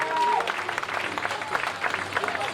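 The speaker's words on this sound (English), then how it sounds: "Give me a big round of applause to this powerlifter." Audience applause at a powerlifting competition for an older lifter, a moderate burst of clapping with crowd noise and faint voices mixed in.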